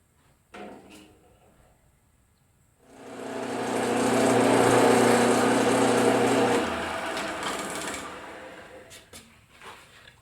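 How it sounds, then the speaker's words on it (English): Power drill with a 3/32 bit boring through wood, a close, whining motor burst lasting several seconds that starts abruptly, drops in pitch as it cuts, then winds down, followed by faint handling clicks. "I want to drill first with the 3/32 bit"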